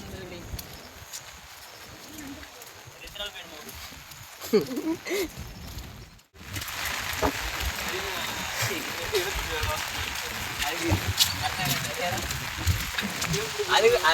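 Steady rain hisses continuously, briefly dropping out before returning louder and denser, with a voice speaking over it in places.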